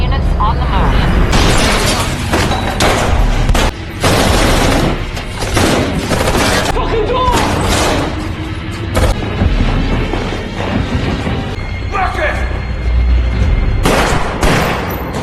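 Sustained gunfire in a film shootout where Gareth shoots Marcus: loud, dense bursts of shots and automatic fire with crashes and booms, repeating throughout, with voices at times beneath the barrage.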